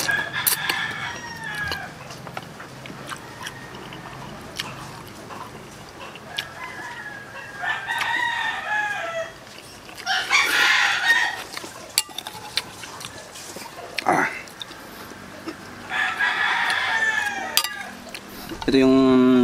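A rooster crows several times, loud and close, between hens clucking, with a faint clink of dishes and cutlery in the background.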